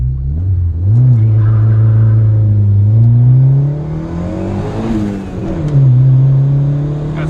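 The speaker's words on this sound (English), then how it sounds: "I'm trying to do now to see if I can do a first to second gear snap shift" A Honda Civic EK accelerates hard with a quick first-to-second snap shift, its engine climbing in pitch, dipping at the gearchange, then pulling up again loudly from close inside the car.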